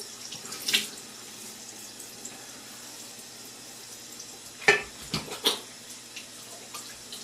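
Tap water runs steadily into a sink as a face is rinsed before a shave, a soft continuous flow broken by a few louder splashes and sloshes nearby.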